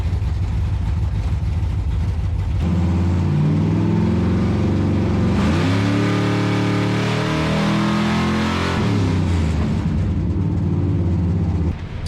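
A supercharged Whipple-blown G-body car engine on a dyno idles roughly, then revs up hard into a loud sustained roar that climbs and falls before settling back to a rumbling idle.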